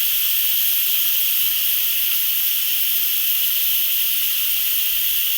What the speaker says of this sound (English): And I'm going to release it. And you can see the steam coming out.